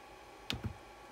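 Two quick plastic clicks from the keypad of a PT500 PTZ joystick controller as a number is typed in, close and crisp against a quiet room hum.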